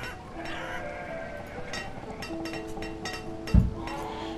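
Chickens cluck in the town-building game Banished, with several short clucks and squawks over a steady ambient background and one brief louder thump near the end.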